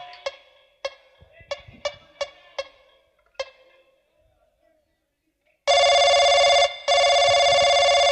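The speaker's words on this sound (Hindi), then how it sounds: "अभी मैं शेखर के पास फोन लगाता हूँ।" A telephone rings loudly and steadily in two long continuous bursts after a series of sharp knocks or taps, with a short gap between the rings.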